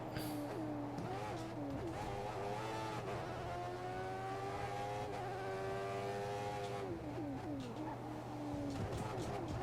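A Formula 1 race car engine in the F1 2014 racing game with a fantasy super mod, whining loudly and continuously, its pitch climbing through repeated upshifts and dipping on downshifts, with a steady low drone underneath.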